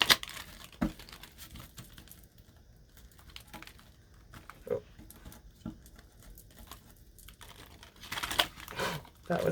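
A tarot deck being shuffled by hand, with soft papery riffles, crinkles and brisk card slaps coming in uneven bursts, quiet at first and louder near the end, with no talking.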